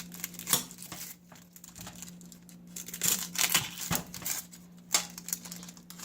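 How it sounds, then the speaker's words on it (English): A knife trimming the ends off onions on a cutting board, giving crisp crunchy slices and taps in irregular bursts, close up over a low steady hum, with no talking. "So what we're going to do is we're going to cut the ends off."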